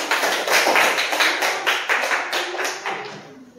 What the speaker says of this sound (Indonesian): Tepuk tangan untuk Tania.